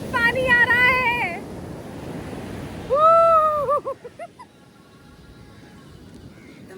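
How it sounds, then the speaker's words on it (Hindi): Ocean waves wash onto a beach at Chennai as a steady broadband surf roar with some wind, while excited voices rise in high, wavering bursts over it. "भाई समुंदर की आवाज आ रही है तुम्हें?"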